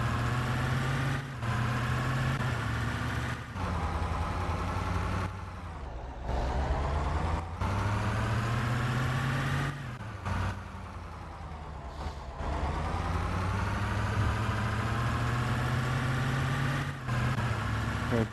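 Truck engine in an Indian truck simulator game, a steady low idling drone that carries on for the whole stretch, broken by a few short dips and sharp cut-offs, with no speech.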